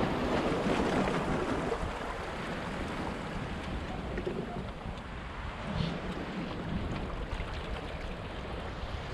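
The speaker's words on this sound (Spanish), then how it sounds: "hoy el mar está súper tranquilo" Calm sea beside a jetty gives a soft, steady wash of gentle water and light wind, broadband and continuous at moderate loudness with no voices over it.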